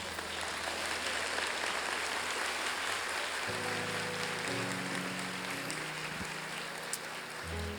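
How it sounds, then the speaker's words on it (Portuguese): A church congregation applauds, a soft, even patter of many hands heard from a distance, while sustained keyboard or organ chords enter partway through. "Aplaude a Jesus aí."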